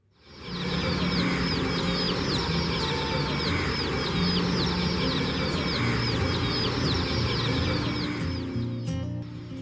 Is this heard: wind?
no